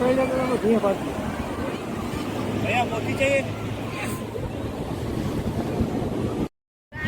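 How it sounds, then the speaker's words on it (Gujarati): Sea waves roar against the beach at Puri, Odisha, as a constant rushing wash. Wind buffets the microphone and people's voices come through faintly before a brief dropout. "મોજા બહુ ગાજે છે મિત્રો"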